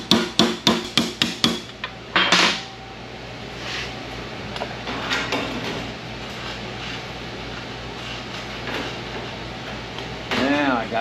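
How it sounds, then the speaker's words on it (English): A hammer strikes the sheet-metal roof skin panel of a Riviera during rust repair: about seven quick, sharp, ringing metal blows in a rapid burst, then someone speaks over faint handling noises. "Still need to hammer this down just a little bit."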